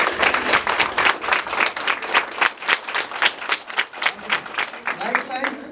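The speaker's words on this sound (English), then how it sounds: "Can I see the clap?" Left section of an audience at a yoga session for nurses and doctors in a hospital claps steadily for several seconds, a dense, fairly loud burst of many hands with no speech over it.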